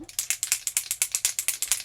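A makeup spray can rattles in quick rhythmic shakes, a rapid series of about fifteen sharp clacks from a loose mixing ball, close and crisp, with no speech.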